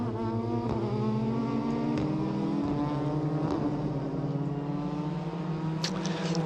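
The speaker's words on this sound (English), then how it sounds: "So the cars will go out, and they will line up on the start line," Touring race cars at a WTCC round in Japan drone steadily from a distance, several engines overlapping with rising and falling pitch throughout, a continuous mid-level roar with no talking over it.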